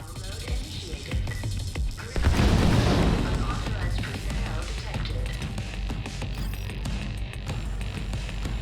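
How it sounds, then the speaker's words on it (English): In The Division 2, ceiling vents burst open with a heavy boom and smoke grenades hiss and pop amid distant gunfire and a dense combat rumble. A narrator talks over the action. "Ceiling vents blow open, smoke grenades are tossed into the room, and enemies rappel down from the ceiling."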